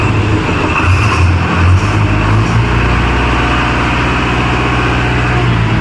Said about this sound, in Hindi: न्यूट्रल करते हैं ट्रैक्टर को, आवाज़ देखिए आप, क्या शानदार आवाज़।